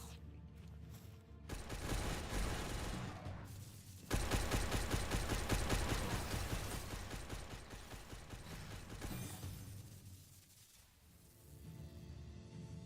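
Gunfire in the video game Palworld, sustained rapid bursts that swell loud and dense over several seconds, drop away, then return more faintly near the end, with no talking over it.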